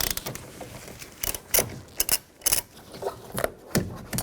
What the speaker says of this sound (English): Use a 10mm socket. Take these 3 nuts off.